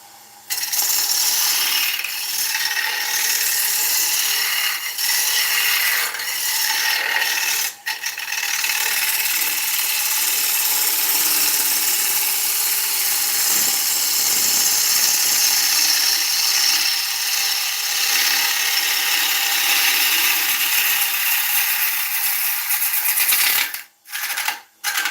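An oak bowl spins on a wood lathe while the tool cuts, giving a steady bright scraping hiss with a ratcheting edge, close and constant, broken by a couple of brief pauses near the end.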